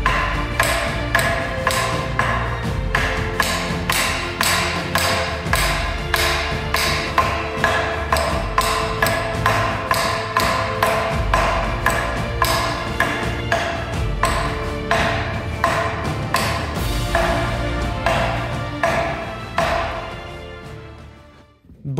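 A knife handle is pounded against a wooden plank in a steady run of sharp, ringing knocks, roughly two per second for about twenty seconds, over a faint tonal background.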